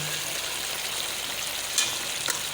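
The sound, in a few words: gobi chicken potato curry with green chilies frying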